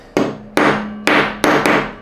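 A hammer strikes brass five times to dent it as a starting point for a drill hole, sharp ringing blows spaced unevenly and each fading out.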